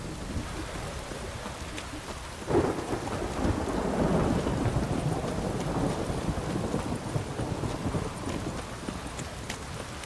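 Steady rain pours through a thunderstorm in The Witcher 3: Wild Hunt (2015), with a deep thunder rumble swelling and a horse's hooves clip-clopping under the downpour throughout.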